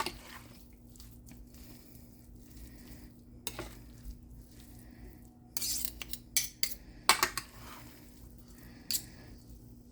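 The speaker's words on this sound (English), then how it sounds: "After I cut it all up and smush it up like this" Utensils cut and mash pan-seared boneless pork in a pan, making scattered scrapes, clinks and soft squishing taps that build into a cluster of sharper knocks toward the end, over a faint steady hum.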